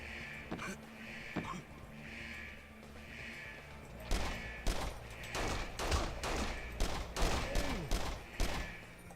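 Weapons firing in the shooter game Exodus From The Earth: a few scattered shots early, then rapid bursts of sharp, punchy gunfire repeating through the second half over a low steady background hum.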